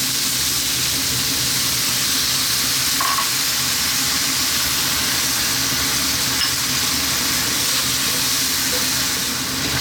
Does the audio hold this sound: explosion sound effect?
no